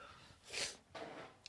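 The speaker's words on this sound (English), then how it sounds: "Now I have to sneeze." A person coming down with a cold sneezes while recording a podcast. The sneeze is a sharp, breathy burst followed by a second, softer exhale, close and fairly quiet.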